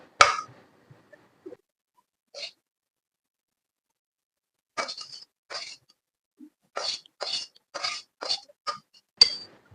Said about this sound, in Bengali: শাকটাকে আমি বাটিতে ঢেলে নিচ্ছি।